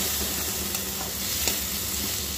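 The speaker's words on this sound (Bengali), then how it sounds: "এবার খুব ভালোভাবে আমি মশলাটা কষিয়ে নেব।" Turmeric, Kashmiri chilli powder and chopped tomato sautéing in a pan for an egg and cabbage dish: a steady, hissing sizzle throughout, with a couple of faint stirring knocks.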